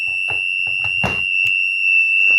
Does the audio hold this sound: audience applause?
no